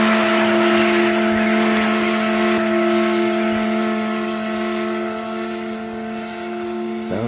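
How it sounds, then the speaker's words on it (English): An engine runs steadily with a droning, tonal hum, holding a constant pitch throughout without breaks. "It looks like the engine still works."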